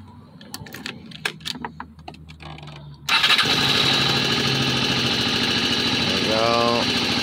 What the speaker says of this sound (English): Let's see, I'll fire it up for you real quick.